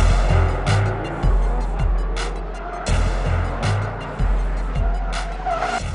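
Drift cars at a Formula Drift round 7 final in Irwindale roar loudly with engines revving and tires squealing, several cycles of rising engine howl and skidding repeating close by in a crowd-filled arena, with no voices.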